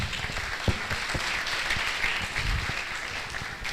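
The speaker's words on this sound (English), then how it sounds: "A round of applause for him." Steady audience applause at a university valedictory ceremony honouring an ophthalmology professor, many hands clapping continuously at moderate volume, with a few louder close claps standing out.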